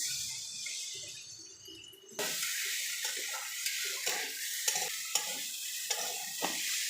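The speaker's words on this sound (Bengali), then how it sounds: "এবার একটু জল দিয়ে দিলাম, পরিমাণ মতো জল।" Water poured into frying masala for a rohu fish head curry, a quiet sizzle that suddenly bursts into a loud, steady hiss, followed by repeated scraping stirs and light spoon taps, no speech.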